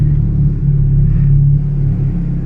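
Hyundai Genesis Coupe turbo engine with aftermarket exhaust, a loud close low rumbling drone that swells gently as it revs, heard from inside the car during a drive in the rain.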